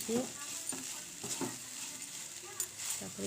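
Carrot halwa frying and being stirred in a pan, with a steady close sizzle and repeated scraping strokes while a voice talks over it.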